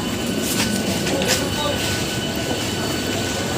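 A train rumbles steadily at Howrah railway station, with rolling wheel noise and faint clicks filling the busy platform. Indistinct voices murmur in the background.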